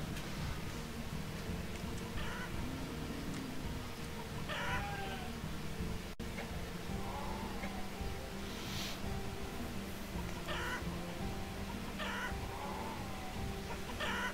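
Chickens clucking in the Banished village-building game, several short bird calls scattered over a steady background of rain-like ambient noise and low droning music, moderately loud, with no one talking.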